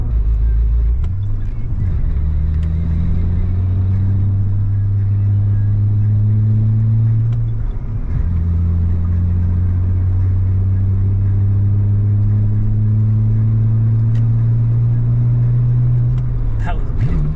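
A Nissan Skyline engine revs hard and accelerates through gears, loud and close, with rising drones that drop at each shift and a voice talking over it.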